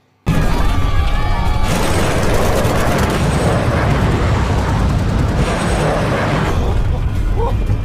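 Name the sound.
gunfire from fighter planes in a film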